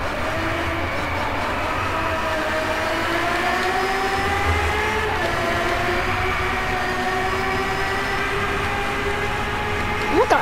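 Engine of a Ferrari 599XX or McLaren P1 GTR racing at night in Driveclub, a steady loud drone with rising and falling gear pitch sweeps, tire noise underneath, sustained throughout.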